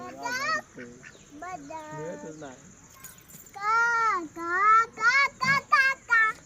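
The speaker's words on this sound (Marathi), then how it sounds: "बदक आहे ना बदक" Nasal duck quacks burst out in a quick series of short calls in a garden, mixed with a child's and adults' chatter close by.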